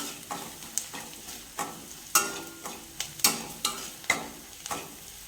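Onions with a pinch of asafoetida sautéed in a pan, a soft sizzle beneath roughly a dozen regular spatula scrapes and knocks against the pan, close and without speech.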